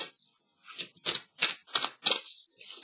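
Tarot cards shuffled by hand in quick bursts, with about half a dozen crisp papery riffles, each sharp and close, separated by short pauses and no talk.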